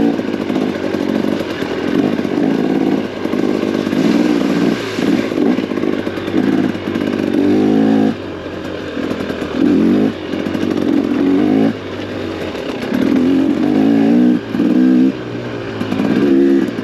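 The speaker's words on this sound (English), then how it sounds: "I guess the only thing about dirt bikes is the noise" A dirt bike engine revs steadily on a single-track trail in Idaho, its buzzing two-stroke-like drone rising and falling in repeated throttle blips, loud and close throughout with no talking.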